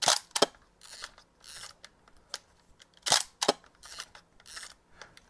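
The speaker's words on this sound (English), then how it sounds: "Really nice sounding shutter, not quite as bassy as the RZs" A Hasselblad 503CW camera shutter fires repeatedly, giving sharp mechanical clacks in pairs and bursts with brief winding rasps between them, close and crisp, with no talking.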